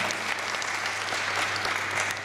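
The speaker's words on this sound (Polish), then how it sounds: "Wielkie brawa, to dla nas wielka radość i zaszczyt." An audience at a space exhibition opening applauds to welcome a guest, a general, with a thick, even roar of clapping that stays steady and loud from start to finish.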